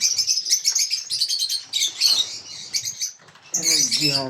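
Many small birds chirp and tweet busily up close, high-pitched calls overlapping in quick bursts with brief pauses, a voice briefly heard near the end.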